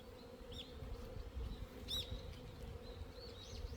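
Flying insects buzzing around a beekeeper's hive during a mite check, a steady droning hum with several whining passes sweeping close by and fading, heard alone without talk.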